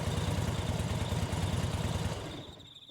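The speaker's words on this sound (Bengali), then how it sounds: "ঠিকানা দেখে একটা বড় গেটের সামনে বাইক থামালো অর্জুন।" A motorcycle engine idles with a steady, close, rhythmic putter, then fades away as the bike comes to a stop, used as an effect in a Bengali horror audio story.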